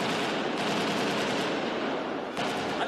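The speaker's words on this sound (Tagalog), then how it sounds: "umalingaw ang mga unang putok ng baril na tila nagmula sa direksyon ng Manila Peninsula" Gunfire near the Manila Peninsula Hotel in Manila: a dense, continuous crackle of rapid shots heard from a distance, steady and loud for the full span with no talk.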